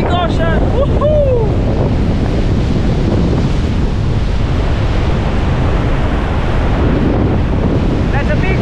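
Atlantic waves crash and churn against a rocky coast of hexagonal basalt columns in Ireland, a loud continuous wash of surf with heavy wind buffeting the microphone and brief excited voices near the start and end.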